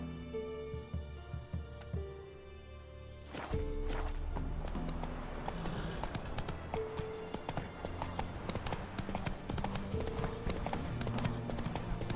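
Roach the horse's hooves clip-clop steadily in the video game The Witcher 3, a rhythmic walking beat that grows louder and busier after a few seconds over background game ambience.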